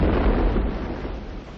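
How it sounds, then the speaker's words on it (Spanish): The cruiser Aurora fires a blank salvo shot, a loud, heavy boom that rolls on as a sustained, broad rumble for over a second with no voices. "El crucero de guerra Aurora efectúa un disparo de salva."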